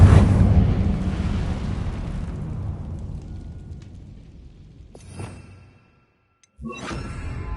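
Incendio fire spell cast in the Hogwarts Legacy video game, a loud whooshing fiery blast that decays over several seconds, followed by a brief pop, a moment of silence and another burst.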